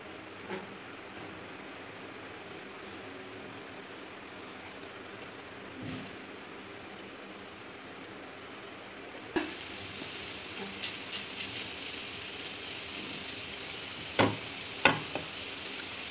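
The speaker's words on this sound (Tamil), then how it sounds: "பன்னீர் ஃப்ரை பண்ணிக்கலாம். லைட்டாக, ரொம்ப டீப் ஃப்ரை பண்ணக்கூடாது" Paneer fries lightly in butter in a pan, a quiet, even sizzle that grows louder and brighter partway through, with a few faint clicks and taps near the end.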